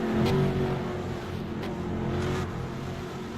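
A Formula-style race car in a racing video game drones steadily with a loud, sustained engine roar for the whole stretch, with no voices.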